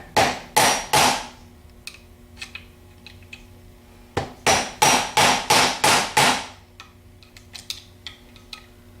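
A bearing is hammered out of a starter housing with a metal punch, in two bursts of loud ringing metallic blows: a few strikes, a pause, then a quicker run of about eight hits, followed by lighter taps.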